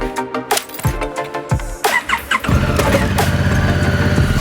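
Honda Africa Twin motorcycle engine starting and revving, uneven blips and pulses that settle into a steady, loud running drone, close by with no talking.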